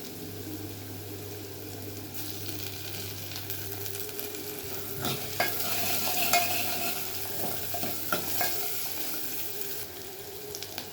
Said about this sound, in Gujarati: ડુંગળી થોડી સંતળાઈ ગઈ છે. હવે નાખીશું ટામેટાં.